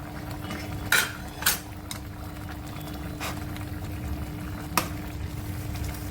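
Cooked fenugreek leaves are stirred into a simmering dhaba-style matar aloo methi curry: a steady low bubbling, with a few sharp spoon clinks against the pot early on and another near the end.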